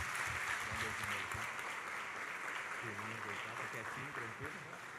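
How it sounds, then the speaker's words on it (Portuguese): A church congregation claps steadily for several seconds, the applause filling the room while a voice speaks faintly underneath. "Vamos dar a salva de palmas a Jesus por isso?"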